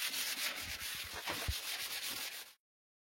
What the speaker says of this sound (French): Sixième étape, le ponçage. C'est parti pour l'huile de coude. En avant les grains de 40, 80, 120 et pour finir 180.